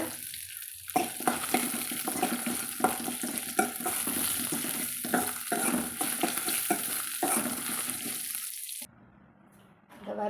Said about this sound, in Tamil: இது வெங்காயம் ஓரளவுக்கு பொன்னரமாக வதங்கி வரட்டுங்க